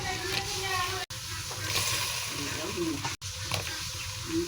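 Water and fried lentil fritters going into hot oil for dal: a steady loud sizzle and bubbling frying noise, close by, with a couple of brief cuts and someone talking over it.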